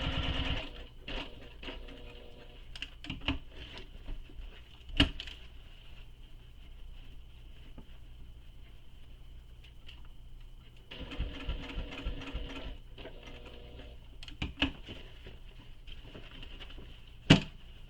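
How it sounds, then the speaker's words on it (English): A sewing machine stitches a shoulder bag close to its hardware, running in bursts of rapid, steady stitching with pauses and a few sharp clicks between runs. "And I'm going to sew up as close to the hardware as I can."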